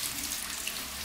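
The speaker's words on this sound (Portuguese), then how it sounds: "Agora é a hora do enxágue." Tap water runs steadily over rinsed circuit boards and parts of a Gradiente MS-M400 micro system stereo being washed, a constant close broadband wash with no talk.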